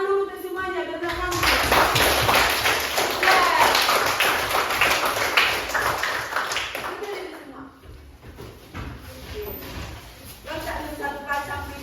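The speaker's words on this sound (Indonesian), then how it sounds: "tepuk tangan dulu ke semuanya" Students in a school classroom clap their hands together in a dense, sustained burst of many overlapping claps lasting several seconds, then taper off, with voices speaking at the start and end.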